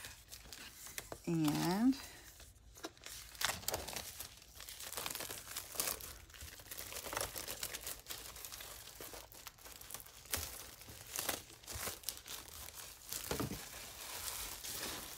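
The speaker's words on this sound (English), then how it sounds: "So I'm taking the cellophane off, the plastic wrap off," Cellophane plastic wrap is peeled off a craft kit in crinkling, tearing bursts that come and go for several seconds, with a faint voice now and then.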